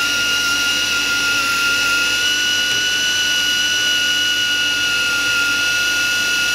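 A Daiwa Tanacom 1000 electric fishing reel winds braid under tension, giving a steady, continuous high motor whine with sustained tonal hum that holds even throughout, close and loud with no talking.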